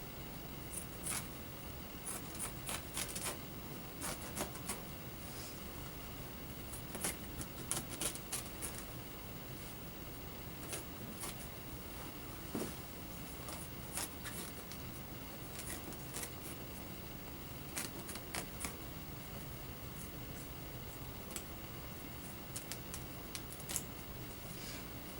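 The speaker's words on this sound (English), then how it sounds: "I'm going to cut the clothes off this guy." Scissors snip through clothing on a trauma patient in a sequence of faint, irregular clicks and cuts spread across a quiet background.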